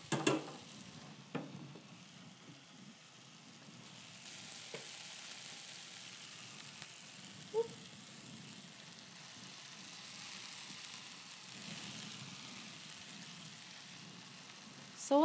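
Noodles, zucchini and parsley stirred together in a hot pan give a steady, low sizzle with a few faint scrapes of a utensil against the pan. No talking.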